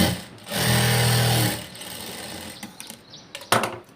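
A sewing machine stitches a blouse in one short close burst of mechanical whirring, followed by quieter handling clicks and rustles.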